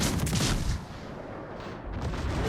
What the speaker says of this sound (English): I'm gonna spam this guy with armor piercing shells as much as I can.